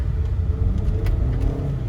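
A new Dodge Charger's turbo engine rumbles and pulls under acceleration on a test drive, a loud, low, continuous drone heard from inside the car with no talking.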